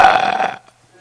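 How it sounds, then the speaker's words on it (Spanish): A loud, close burp lasting about half a second, rough and voiced, ending abruptly into near silence. "y se echa un eructo."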